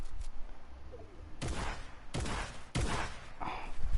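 Gunfire in the Fortnite video game comes as three sharp, loud shots spaced about a second apart, each with a short ringing tail, over low background game noise.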